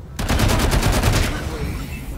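Gunfire from Wasteland 3 rattles off as a rapid automatic burst of about ten evenly spaced close shots, loud and sharp, then fades into a lingering rumbling tail.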